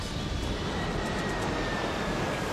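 An airliner's engines roar steadily during approach and descent toward Sioux City airport, a dense continuous wash of noise with no voices on top.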